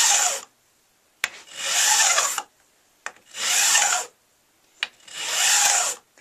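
Steady back-and-forth rasping of a fret levelling file across the frets of a Vintage V99 guitar: four long, loud, close strokes with short pauses between them, and a sharp click before each of the later strokes.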